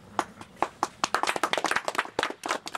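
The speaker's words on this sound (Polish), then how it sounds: "Brawa dla wszystkich." Audience applause at an angling club gathering, with scattered individual claps at first building into denser clapping from a small crowd, fairly close.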